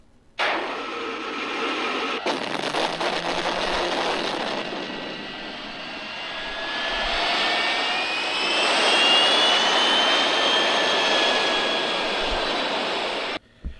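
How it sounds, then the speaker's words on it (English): The Batmobile's loud jet-like engines roar to life with a sharp start in an alley, then hold a powerful whooshing drone that swells and fades as it takes off, before cutting off abruptly. "there he sees the Batmobile fire up its engines and take off"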